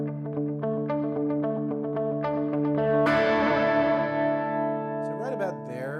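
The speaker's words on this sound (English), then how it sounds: "You're hearing more reverb than you are delay" An electric guitar played through a delay pedal with reverb rings out in sustained, repeating notes; a strummed chord then blooms into a wash of echoing, reverberant tails.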